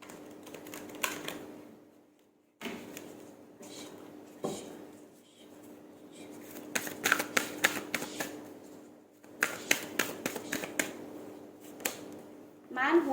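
Tarot cards being shuffled for a card reading, with repeated rapid riffling bursts and crisp clicking snaps close to the microphone, broken by short pauses and with speech mixed in.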